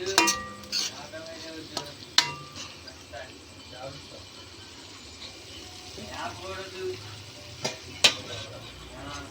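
Prawn curry with tomato and onion cooking down in oil, a soft low sizzle under a person talking, with a few sharp clinks of a utensil against the pot.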